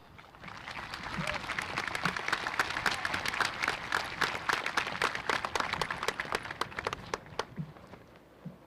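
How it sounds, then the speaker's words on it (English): Audience applause at a high school graduation ceremony, a dense, sustained clapping from a large crowd that swells and holds for several seconds before thinning out at the end. "Let's give the educators, healthcare workers, first responders a round of applause"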